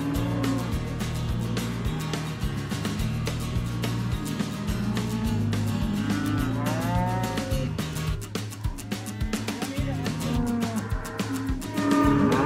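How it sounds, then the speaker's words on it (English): Cattle on a ranch mooing repeatedly as cows are separated from their calves, overlapping loud bellows and calls from several animals, continuous and near, with no talk. "we've got Todd and Henson separating the cows from the calves"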